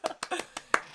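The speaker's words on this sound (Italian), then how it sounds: "battere le mani perché sennò non capisco" Five quick hand claps in a slightly uneven rhythm, sharp and close, heard alone in a quiet room.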